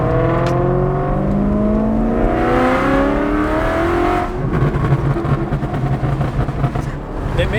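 A tuned BMW E9X M3 accelerates hard during a race, its engine climbing through the revs in rising sweeps and shifting once midway, loud and close.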